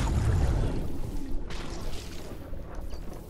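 Muffled underwater swimming in Fortnite: a dense watery whoosh with splashing that is loudest at the start, then eases to a softer, steady churn.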